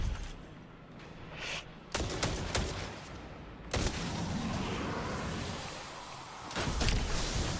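Pulse rifle fire in the video game Destiny: loud, crackling bursts of rapid shots come in several clusters over dense, noisy combat sound, with no voice heard.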